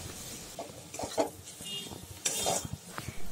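Fish being stirred into cooked spice masala in a pan, with repeated scraping strokes and light clinks of a utensil against the pan, close and moderately loud, no voices.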